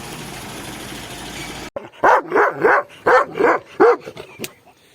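A Kangal dog barks repeatedly in a quick series of about six sharp woofs, close and loud, after a brief burst of rushing noise at the start.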